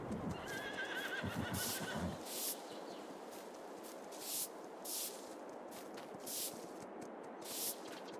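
In the Farming Simulator video game, a horse whinnies loudly near the start, with repeated clip-clop hoofbeats and soft outdoor ambience through the rest.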